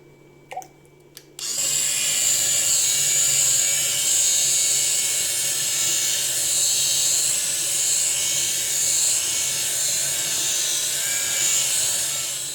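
An AliExpress electric cleaning brush, its motor driving the head through a gearbox, starts up after a brief click and then runs with a steady, loud high-pitched whine and buzz that continues alone for the rest of the clip.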